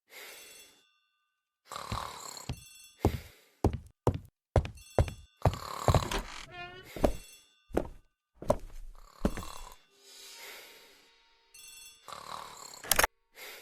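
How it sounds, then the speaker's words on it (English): An old-style telephone rings in the hall within the Agatha Christie The ABC Murders game, with bursts of ringing broken up by soft knocks and thumps, all heard fairly quietly. "The telephone in the hall is ringing."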